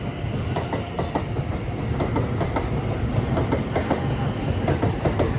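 Southern Class 377 electric multiple units passing through Clapham Junction, a continuous loud rumble with rhythmic clickety-clack of wheels over rail joints.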